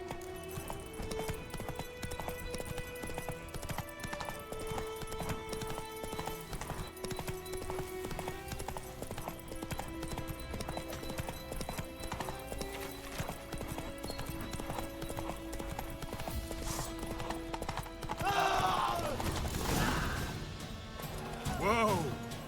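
Roach, Geralt's horse in the video game The Witcher 3: Wild Hunt, gallops with a steady, loud clip-clop of hooves under game music. A brief crash and a neigh-like burst come near the end.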